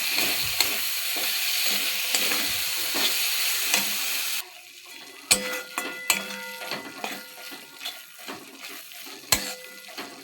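A sesame and sugar mixture is stirred in a pan, starting with a busy close sizzle and scraping. Then it quiets to softer sparse clinks and taps of the utensil against the metal.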